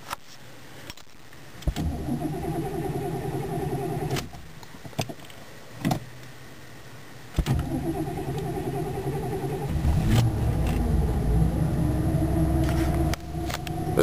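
An old car engine cranks and catches, then settles into a steady, fairly loud idle with a low rumble, broken by a few short mechanical clicks and knocks.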